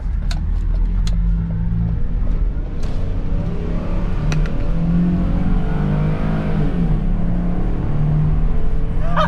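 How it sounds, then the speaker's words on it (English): Big truck engine driving along a road, a loud continuous low rumble and drone with gear-like shifts in pitch, close and steady throughout, with a few clicks and knocks over it. "I've always wanted to drive a truck that makes the backup noise."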